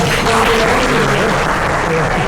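Meeting participants clapping together in a business meeting room, a sustained burst of applause at close range, steady and fairly loud throughout.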